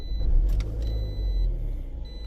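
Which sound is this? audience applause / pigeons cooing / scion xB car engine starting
scion xB car engine starting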